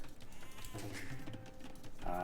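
Sheep bleat in the Age of Empires strategy game, with short wavering animal calls layered over the game's background sounds and a louder bleat near the end.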